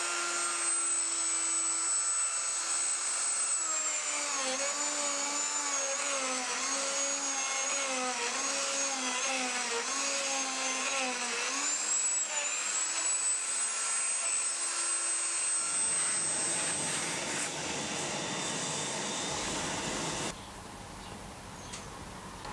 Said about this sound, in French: Et là, maintenant, dès que je vais mouliner, la machine va descendre.